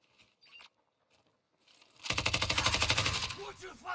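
Rapid bursts of automatic gunfire from a PKM machine gun in the Warzone video game erupt loud and close after quieter scattered shots, a dense rattling volley lasting over a second, with players talking over it.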